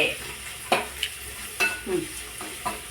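Onions sauté in a pan with a constant close sizzle, broken by several scraping knocks as a ladle stirs and pushes them around.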